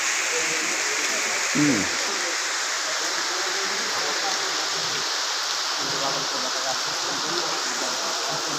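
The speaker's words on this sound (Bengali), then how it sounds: "গুড়ি গুড়ি বৃষ্টি।" Light drizzling rain falls in Jibannagar, Chuadanga, Bangladesh, a constant soft wash of hiss, with a brief faint vocal sound early on.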